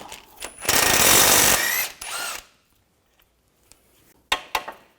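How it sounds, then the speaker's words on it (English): Nut and bolt on the front passenger-side suspension of a 2013-2019 Ford Escape 2.0L being loosened with an 18mm socket and 15mm wrench: a loud burst of power-tool whirring lasting about a second, then a shorter mechanical rattle and a few sharp clanks, with no talk. "Using an 18mm socket and a 15mm wrench, take this nut and bolt out."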